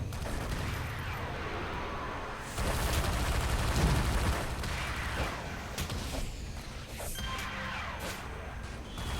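Auto turrets open fire in the video game City of Heroes, a dense, continuous rattle of rapid gunfire and crashing impacts layered over steady game noise, with no talk.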